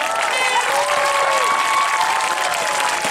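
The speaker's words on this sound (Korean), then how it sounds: "우리 여러분들 박수 부탁드리겠습니다." Loud, sustained audience applause with some cheering fills a K-pop cover dance festival, steady throughout with a few tonal whoops rising above the dense clapping.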